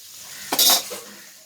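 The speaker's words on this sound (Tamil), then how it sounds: "கருவாடை கொஞ்சம் வறுவெடுக்கும்." Dried cod fish fries in a pan and is stirred once, a brief scraping sizzle over a faint background hiss.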